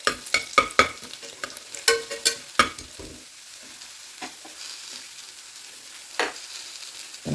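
Urad dal and fenugreek seeds stirred in hot oil in a pan, a series of sharp scraping stirs in the first few seconds over a low sizzle, then quieter frying with one more scrape near the end.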